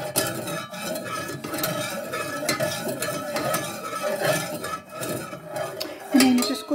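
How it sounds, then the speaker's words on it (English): Homemade candle wax mixture being stirred in a container, with continuous scraping and light clinks of utensil on the vessel, close up, over a faint background murmur. "but you've got to keep stirring"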